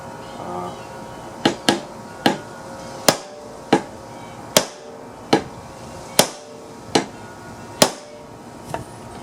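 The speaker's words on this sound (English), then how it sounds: "going to hammer on it with this and maybe even get a bigger" Sharp metallic hammer blows ring out about a dozen times at an uneven, steady pace, loud and close, striking a bent lawn mower crankshaft.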